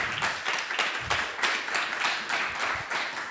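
A steady round of applause from an audience welcoming a 12-year-old girl presenter at a devotional gathering, dense and continuous with gentle rhythmic swells throughout.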